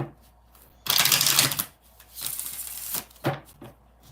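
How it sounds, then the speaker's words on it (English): Oracle cards being shuffled by hand in several bursts, a long riffling rush followed by shorter brisk shuffles, close and fairly loud with no talking over them. "4 more shuffles."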